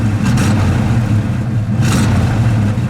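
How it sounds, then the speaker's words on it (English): The 360 V8 of a 1971 AMC Hornet SC 360 rumbles loud and close, a deep throaty idle broken by two sharp revs that swell and fall back. "Go ahead, give it a rev."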